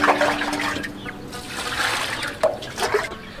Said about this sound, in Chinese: 把排骨清洗干净。